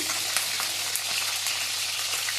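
Large-cut onions dropped into oil with two frying dried red chillies, giving a steady bright sizzle and fizz with faint scattered pops and stirring clicks, no voices.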